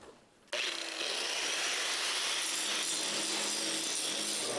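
Torch marks are cleaned off the bottoms of heavy steel welding table legs. After a brief quiet start, a loud, continuous abrasive grinding rasp kicks in suddenly and runs steadily to the end.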